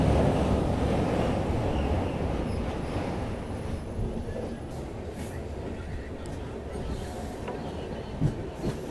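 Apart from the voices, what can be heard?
Mangala Lakshadweep Express train arriving at Kannur station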